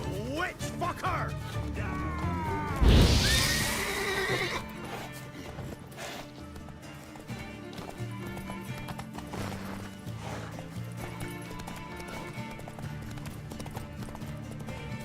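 A horse whinnies loudly amid clopping hooves in The Witcher 3: Wild Hunt, with bleating animals and a dense layer of game sounds and shouting voices around it.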